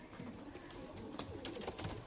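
Large Chini Kaldum pigeons coo quietly in a loft amid low background rustle and faint scattered sounds, the calls soft and close but not prominent.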